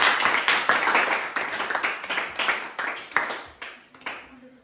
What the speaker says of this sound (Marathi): एकदा दुर्गासाठी टाळ्या वाजवा